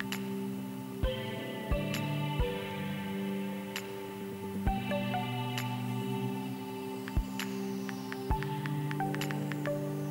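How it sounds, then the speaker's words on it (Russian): iOS 10 keyboard clicks tapped on an iPhone 5: a series of short, crisp ticks at uneven intervals over steady tonal background music, no voices. "То есть вот такие звуки клавиатуры."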